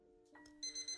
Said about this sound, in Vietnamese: 4:30 tiếng chuông điện thoại báo thức kêu leng keng khiến cho anh giật mình trở dậy.